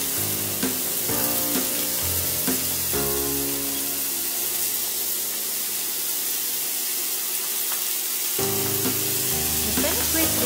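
Fenugreek leaves sizzle and fry in a pan of golden-browned garlic, a steady hiss that holds throughout, with brief clinks and stirring near the start and end.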